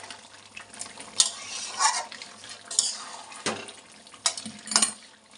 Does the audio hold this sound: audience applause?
no